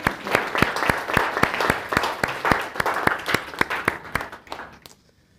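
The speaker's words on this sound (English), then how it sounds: "I would just like to have a quick round of applause" A room of research collaborators at an academic presentation gives a short round of applause, the claps close and crisp in a quick, fairly even rhythm that thins out and stops near the end.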